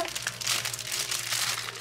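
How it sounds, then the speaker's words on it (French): Close, crinkly rustling of baking paper being handled and rolled, a steady papery crackle with soft scraping textures throughout. "je dois enrouler le papier cuisson"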